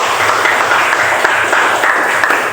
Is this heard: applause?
yes